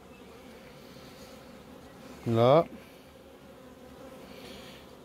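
A honeybee zips close past during a beehive inspection in a single brief, loud buzz over a faint hum of the colony, with someone speaking briefly.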